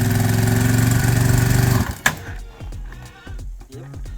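Neglected Yamaha Warrior ATV engine running after a pull-cable start, a loud steady mid-pitched idle chug that cuts off abruptly with a sharp bang, then faint sputters and a voice talking nearby.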